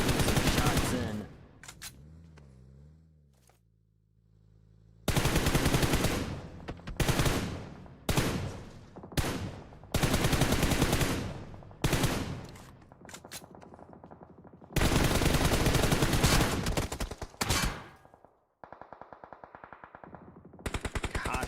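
Gunfire in a PUBG Mobile scrim match, long bursts of automatic shots alternating with short gaps, loud and close, with quieter stretches and a few isolated shots between volleys.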